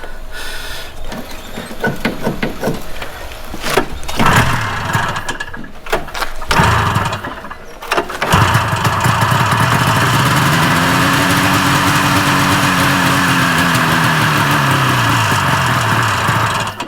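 Small engine on a cheap snow blower cranking without fuel, with a few sputtering bursts early on, then a steady, loud mechanical whir and drone that keeps turning over without catching.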